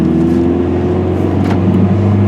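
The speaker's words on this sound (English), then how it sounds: "You can hear the turbo kick in a little bit" A Dodge Neon SRT-4 pulls under load as its turbo comes on, a steady loud engine drone with a faint rising whoosh partway through, no talking.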